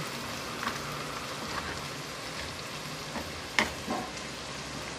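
Shrimp sizzles steadily in a hot pan alongside plenty of tomatoes for a Filipino monggo dish, a constant close crackle and hiss with a few sharper pops and splatters near the end.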